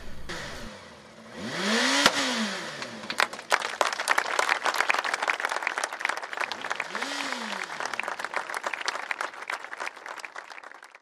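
Crowd applause mixed with motorcycle engines revving and roaring as a coffin is carried out at a funeral in Ferrazzano, Italy; two rising-and-falling rev sweeps stand out over steady, sustained clapping.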